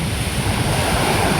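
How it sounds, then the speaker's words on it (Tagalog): Steady roar of ocean surf with continuous wash of breaking waves, broadband and loud, with some wind rumble; no voices. "medyo malakas yung alon"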